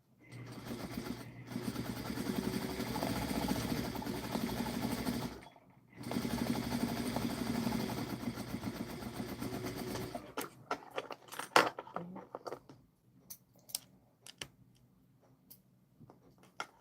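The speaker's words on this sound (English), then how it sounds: "So I'm going to sew up the front, and then we got to sew the arms on." A sewing machine stitches up the front seam of a stuffed bear, a steady motor whir running in two long stretches broken by a short stop, followed by scattered ticks and clicks of fabric handling.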